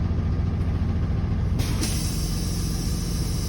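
Air brake on a truck's service brake system, with a sharp burst of hissing air around the middle, released over a steady low engine idle running throughout.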